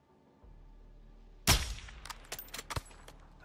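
A single sharp sniper rifle crack in Call of Duty Modern Warfare II, loud against a quiet backdrop and followed by a few fainter clicks and metallic knocks as the rifle settles.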